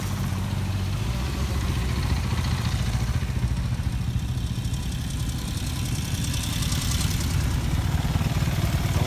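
Vintage motorcycles arrive at a vintage motorcycle festival in the USA, their engines idling and running with a steady, close, loud rumble and clatter throughout, with no voices.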